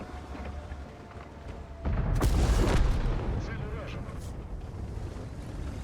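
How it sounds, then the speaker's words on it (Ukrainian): In World of Tanks, an artillery piece fires a deep, loud in-game boom that swells into a sustained roar and rumble before easing off. Game background noise continues underneath. "Невже арта стрельнула і нанесла собі при цьому шкоду?"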